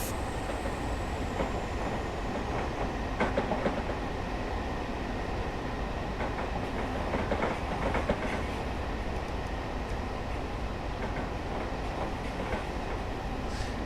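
In the Train Sim World video game, train wheels clatter over track junctions under a steady rolling rumble, with rhythmic clicks and thuds recurring across the run at a moderate level.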